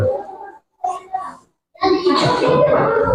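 Children in a fifth-grade primary school classroom give applause for a group, the clapping bursting out loud and dense after a teacher speaks, mixed with children's voices.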